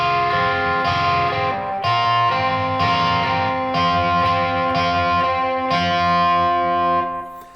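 Distorted electric guitar plays a section of a song, sustained notes ringing out with effects over a steady, dense tone, loud and alone.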